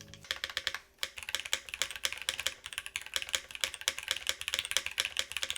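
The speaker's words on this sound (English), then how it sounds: "we just tried a cherry switch. It does have an oddly flat sound signature for the aluminum plate" Rapid, continuous clacking from a mechanical keyboard with Cherry switches on an aluminum plate, with a flat sound, recorded up close, keystrokes tumbling quickly with only a brief pause.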